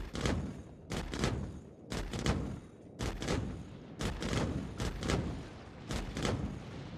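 Repeated bursts of ballistic gunfire in the Star Citizen video game come in short volleys roughly every second, loud and punchy with heavy low thumps, and no talking over them.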